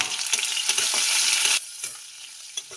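Chopped onion hisses in hot oil with two dried red chillies and five-spice seeds, a loud close sizzle that suddenly drops to a softer crackle with light stirring taps.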